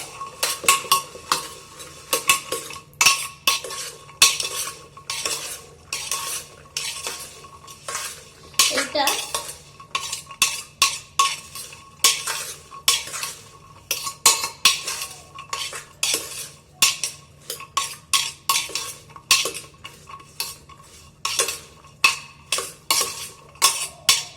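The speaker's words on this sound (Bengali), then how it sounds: "আর অল্প পরিমাণ জল দেবো, যেন পুড়ে না যায়। এই যে মিলিয়ে দেবো ভালো করে।" Food with a little added water is stirred in a pot, producing repeated close clanks and scrapes of a metal spoon against the pot in a steady, busy rhythm over a faint sizzle.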